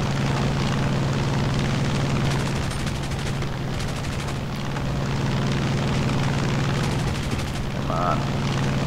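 A P-47 D-25 fighter's piston engine drones steadily in War Thunder, a constant loud low hum with bursts of gunfire rattling over it.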